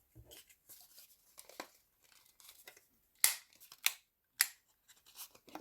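Paper corner being rounded for a handmade mini album: soft rustling and small cutting sounds, then three sharp, crisp clicks of the cutter closely spaced near the end, heard up close and alone.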